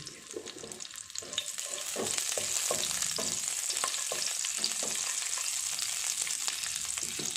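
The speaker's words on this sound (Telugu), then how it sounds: "ఆయిల్ వేడెక్కాక కట్ చేసుకున్న మూడు పచ్చిమిరపకాయలు వేసుకోవాలి" Three chopped green chillies fry in hot oil with a constant loud sizzle and crackle, and a spoon stirs and scrapes the pan at intervals, up close, with no talking.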